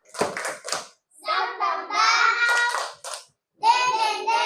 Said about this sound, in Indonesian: Biar tidak ngantuk kita tepuk semangat lagi ya. Oke, tepuk semangat.